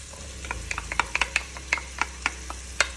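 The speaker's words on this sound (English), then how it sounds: "So now that the cumin started popping, and I'm just going to add the onions first" Onions added to hot oil with cumin seeds frying in a pan for a masala base, a close sizzle broken by a dozen sharp pops and stirring clicks at uneven intervals.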